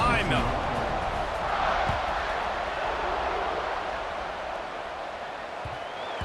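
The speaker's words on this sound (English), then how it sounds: "They're set to kick it off, and this crowd now ready to get behind them." Broad, steady roar of a football stadium crowd just before kickoff, a sustained wash of voices easing slightly toward the end, with an announcer speaking over it.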